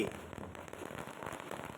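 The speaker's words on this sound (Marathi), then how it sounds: "हे जे फटा फटाके फुटत आहेत" Firecrackers bursting in a steady crackling series during a Ganesh immersion procession in a Konkan village, a dense stream of sharp pops mixed with crowd noise, moderately loud throughout.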